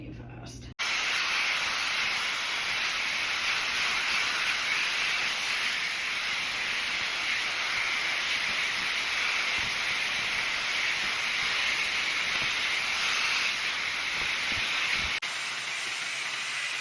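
A WeBeauty hairdryer brush hot comb blows a steady, loud airy hiss that runs unbroken for about fifteen seconds, then cuts off near the end.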